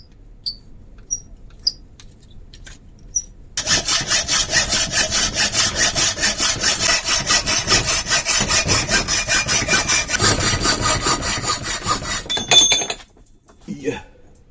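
A hand saw cuts through wood up close, its rapid back-and-forth strokes forming a loud, steady rasping rhythm for about nine seconds after a few quiet ticks, then stopping with a brief clatter.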